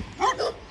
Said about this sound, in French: c'est toujours les mêmes chiens qui me suivent à chaque fois.